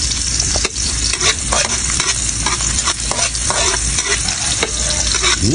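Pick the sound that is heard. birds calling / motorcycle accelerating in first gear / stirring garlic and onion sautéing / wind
stirring garlic and onion sautéing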